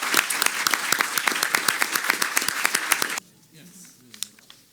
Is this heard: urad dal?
no